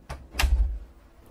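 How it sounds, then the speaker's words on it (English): A door is pushed shut in a radio soap scene, two quick knocks of contact followed by a low thud as it closes, close and fairly loud. "Shut the door. Shut the door."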